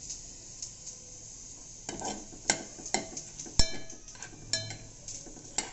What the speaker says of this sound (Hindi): तीन लौंग, तीन काली मिर्ची, एक तेजपत्ता और एक स्टार, और इसे थोड़ा सा हम भून लें।